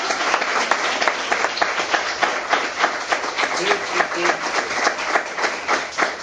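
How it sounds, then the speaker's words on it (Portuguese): Congregation applause at a church service inside a maximum-security prison, a dense, steady wash of many hands clapping together throughout, fairly loud with a faint murmur of voices mixed in. "Palmas para o Senhor Jesus."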